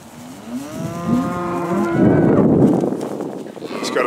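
Bred crossbred cows at a cattle sale moo loudly and close by in a long, drawn-out bellow that swells, with farm background noise underneath and no talking.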